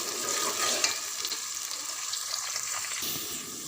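Onions browning in a pan for a restaurant-style beef yakhni pulao give a steady, close sizzle and crackle that holds evenly throughout, with a faint stir or scrape near the start.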